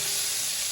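Diced yellow onion frying in bacon drippings in a pan, giving a steady, close sizzling hiss that stays even throughout with no talking.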